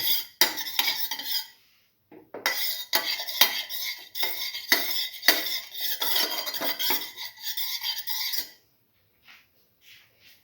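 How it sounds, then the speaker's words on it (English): Oil is spread across a heated, foil-lined pan with a utensil, giving repeated scraping, rubbing and crinkling strokes in bursts. A short pause breaks them, then they stop and faint clicks follow. "Spread the oil in the pan."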